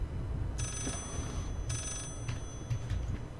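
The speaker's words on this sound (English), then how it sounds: "Where is that ringing coming from?" Two bursts of an old-style telephone bell ring out in Layers of Fear, shrill and metallic against a low ambient rumble, followed by fainter trailing echoes.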